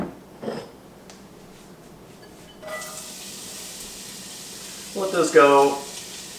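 Onions hit hot oil in a pan on a gas range, setting off a soft steady sizzle partway through, joined near the end by a brief spoken phrase.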